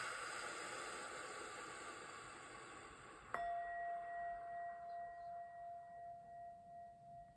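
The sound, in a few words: sound bowl (singing bowl) struck to cleanse energy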